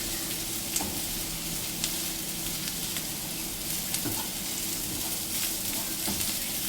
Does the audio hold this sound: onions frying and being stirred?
yes